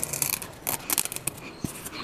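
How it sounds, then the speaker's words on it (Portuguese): Scissors cut through vinyl wall sticker paper in quick, close snips and crisp rustles, a run of sharp, dense cuts with brief pauses between them. "Eu vou começar a cortar aqui."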